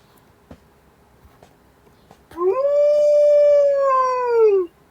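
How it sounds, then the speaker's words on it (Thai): A single long, sustained wolf howl in a video game rises and slowly falls for about two seconds, loud and clear after a few faint clicks. "ทำไมมีเสียงมาหอนได้กลัวเลยนะเนี่ย"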